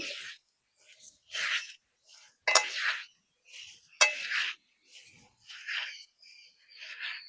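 Rice, lentils and potatoes with tomato, green chilli and oil are mixed by hand in a pot, making a series of short, soft wet squelches and grainy rustles, separated by brief pauses, with a few light clinks against the pot.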